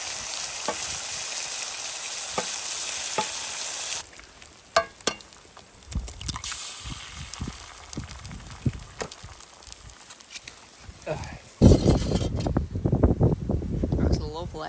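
Bacon and sausages sizzle and crackle in a pan at an off-grid camp in North Wales, a steady frying hiss broken by clatter and handling noises, with a louder burst of sizzling near the end and voices talking over it.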